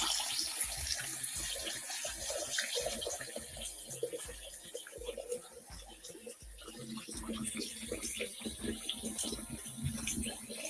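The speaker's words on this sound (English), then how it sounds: "We're going to fill it back up." Tap water runs steadily into a clean kitchen sink as it fills, a continuous rushing and splashing stream with scattered clinks and sounds of handling around it.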